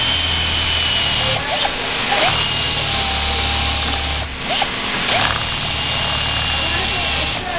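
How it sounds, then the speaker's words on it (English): A power drill with a step drill bit whines steadily up close, its tone dipping as it bites, with a couple of short pauses and some talking in between. "I'm just gonna use a step drill bit"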